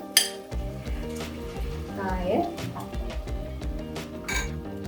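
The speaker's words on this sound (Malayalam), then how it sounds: "ഇനി നമ്മൾ ഇതിലേക്ക് നമ്മൾ എടുത്തു വെച്ചിട്ടുള്ള കായ ഇട്ട് കൊടുക്കുകയാണ്." Raw plantain pieces drop into a curry pan for a Kerala fish-curry-style plantain dish. Close metallic clinks and scraping stirs of a utensil against the pan come through with light sizzling, while a person speaks over it.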